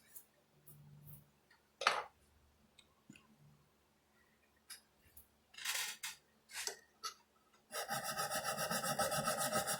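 A hand saw cuts a wood dovetail joint, starting with a few scattered short scrapes and strokes. It settles into a continuous, loud back-and-forth sawing rhythm close by.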